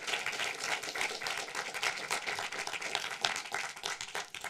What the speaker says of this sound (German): Und schon mal einen großen Applaus, dass die Regisseurin extra gekommen ist, Anca Miruna Lazarescu.